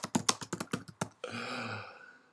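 Computer keyboard typing for an email, with about nine crisp, evenly spaced key clicks, close and clear, followed by a steady soft hum and no voices.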